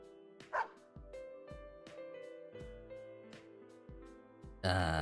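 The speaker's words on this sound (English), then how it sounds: "Snowy barks once as if comprehending its 色の name." A single dog bark from a small white dog in the fighting game Persona 4 Arena Ultimax, a short yip rising over steady background music with soft rhythmic thumps, followed by a burst of louder sound at the end.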